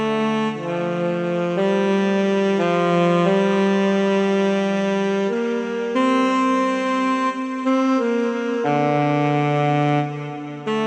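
The Iowa Alto free alto saxophone plugin, now processed through added effects, plays a legato melodic line of held notes that blur into one another with a wetter, fuller tone, continuous and up front.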